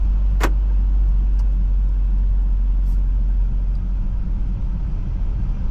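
Daihatsu Rocky SUV engine pulling to high revs, a steady low rumble heard from inside the cabin, with a brief click early on and no talking.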